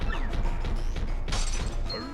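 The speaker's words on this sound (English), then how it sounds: "I heard glass break." Glass smashes in a Paper Mario-style video game, a single bright crash burst midway through a busy stretch of game sounds and music.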